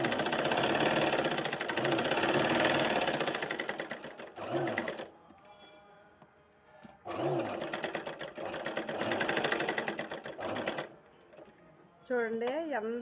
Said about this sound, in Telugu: చూడండి ఎంత ఈజీగా కుడుతున్నానంటే